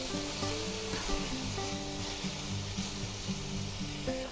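About a tablespoon of rice wine boiling off in a hot pan of black pepper chicken gives a steady, close, hissing sizzle that lasts throughout, with soft background music underneath and no voices.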